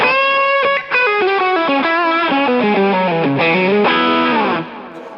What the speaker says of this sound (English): So here we have a tube screamer on max.